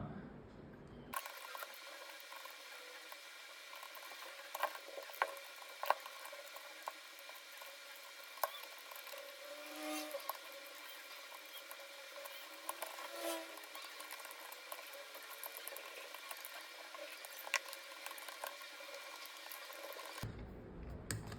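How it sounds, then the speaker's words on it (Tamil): Small screws being driven into the top cover of a salvaged mini projector, giving a long run of faint, close ratcheting clicks and scratchy mechanical ticks with no talk. "அப்படியே வச்சு ஸ்க்ரூ பண்ணிடுறேன்"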